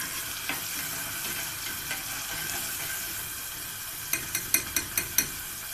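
Onion frying in a pan for stuffed pigeon, a steady close sizzle with stirring, then a quick run of sharp taps near the end.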